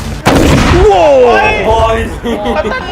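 A sharp loud bang from a large Diwali firework right at the start, then a rising whistling tone and excited voices talking and shouting over the fading crackle.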